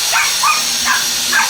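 A small dog gives four rapid, high-pitched yaps at a steady pace, somewhat distant and partly buried under a constant background hiss.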